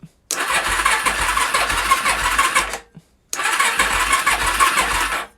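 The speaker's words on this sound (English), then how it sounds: "it might be just enough amperage to get it to turn over." A motorcycle that has sat unused for months cranks on a weak battery through jumper clips, two long steady whirring starter bursts separated by a short pause, loud and close, never catching.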